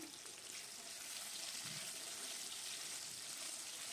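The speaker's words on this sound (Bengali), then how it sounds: "এবার আলুটা একটু লালচে লালচে করে ভেজে নেব" Diced potatoes sprinkled with salt fry in hot oil, a soft, continuous hiss and sizzle heard close but faint with no talking.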